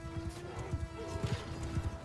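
Horse galloping in the video game Mount & Blade II: Bannerlord, rhythmic thudding hoofbeats in quick clusters over a low steady battle hum, fairly close and moderately loud.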